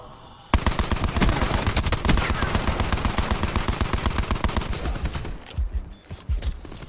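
Rapid automatic gunfire from the Call of Duty video game, including a titan-style heavy weapon, bursts out loud and sustained in dense repeated volleys for several seconds, then breaks into scattered shots near the end.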